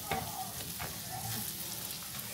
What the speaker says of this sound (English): Garlic first. And how long will you fry this for?